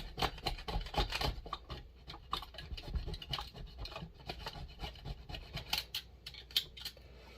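Old gasket material scraped off a Zenoah-clone engine cylinder: quick repeated rasping strokes at close range, irregular rhythm of scrapes and rubs, fairly faint, no talking.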